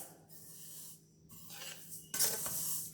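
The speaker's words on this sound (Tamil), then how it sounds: "பாருங்க, கொஞ்சம் எள்ளு வாசனை வர வரைக்கும் வறுக்கணுங்க நம்ம." Black sesame seeds dry-roasting in a pan, with soft crackling and rustling as they're stirred, then a louder scraping and sizzling spell toward the end; no talking.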